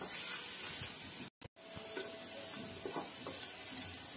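Ginger and garlic paste frying for chicken biryani gives a steady, close sizzling hiss, broken by a brief gap, with faint stirring scrapes underneath.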